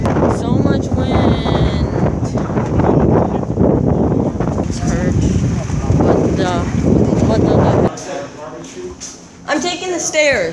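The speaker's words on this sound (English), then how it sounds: "So much wind." Strong wind buffeting a microphone on a South Carolina vacation, a loud continuous roar for about eight seconds, then dropping briefly before gusting again, with people talking over it.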